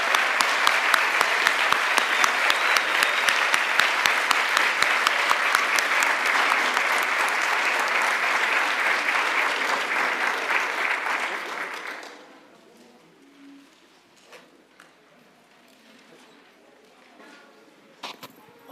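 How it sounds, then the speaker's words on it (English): Guests at the 2018 Littleton Immigrant Resources Center naturalization ceremony give new citizens loud, sustained applause with crisp rhythmic claps, which stops abruptly around twelve seconds, leaving quiet room noise and faint stray sounds. "Let's have one more big, huge round of applause for all of our new citizens."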